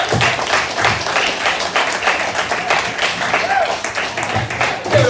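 Stand-up comedy crowd at a garage bar in Grand Rapids applauding between comedians, a busy patter of clapping with voices speaking and cheering through it.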